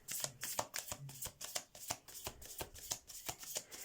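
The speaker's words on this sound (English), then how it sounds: "Let's get a couple of my little oracle cards." A deck of oracle cards being shuffled by hand, a quick run of crisp, rapid riffling flicks that stays close and fairly loud with no talking.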